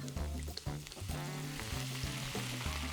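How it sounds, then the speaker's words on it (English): A splash of wine hits a hot pan and sizzles steadily, a continuous frying hiss that sits under tonal background music. "So touch of wine goes in."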